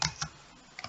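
A few quick keyboard keystrokes: two crisp taps near the start, a short pause, then two more taps close together, nearby and fairly quiet with no voice.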